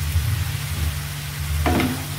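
Vegetable risol filling with noodles, spring onion and bolognese sauce sizzles steadily in a pan, a continuous close frying hiss with a low hum beneath and a brief stirring scrape near the end.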